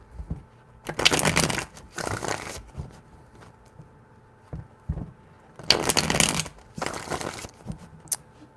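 Tarot cards are shuffled in four crisp bursts of riffling, grouped in two pairs with quiet gaps between, close up and with no voices.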